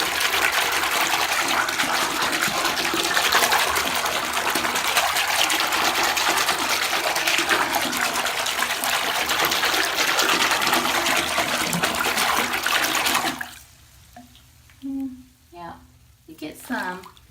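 Bath water gushes steadily into a tub for about thirteen seconds, with a loud, broad, hissing rush. Then it stops abruptly and a few quieter splashes and voices follow.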